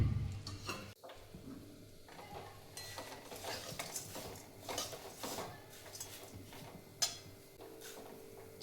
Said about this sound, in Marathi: पोहे भाजून घ्यायचे, तुपामध्ये भाजून घ्यायचे.